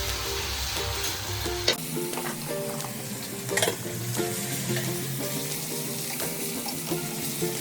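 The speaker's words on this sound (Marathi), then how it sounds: "आता आपण टाकत आहोत 1 चम्मच आलं लसूणची पेस्ट आणि ते चांगल्या प्रकारे आपण भाजून घेऊया।" Ginger garlic paste frying in hot oil with cinnamon, cardamom and cloves, giving a steady close sizzle with repeated scraping strokes of a stirring spoon and occasional metallic clinks.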